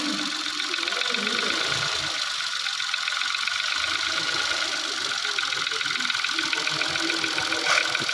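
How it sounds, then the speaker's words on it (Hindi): A Kia car engine idling with a fault, giving a rapid, steady metallic tick-tick knocking over the running hum, close and loud, while someone talks over it. "ये आप टक टक की आवाज़ सुन सकते हैं। बहुत ज़्यादा आवाज़ है इंजन के अंदर।"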